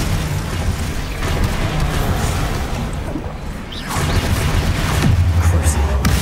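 Spells in the Hogwarts Legacy video game crackle and boom in quick succession, ice and disarming charms mixed with whooshes and crashes, dense and loud throughout over a low rumbling bed, with a player calling out spell names.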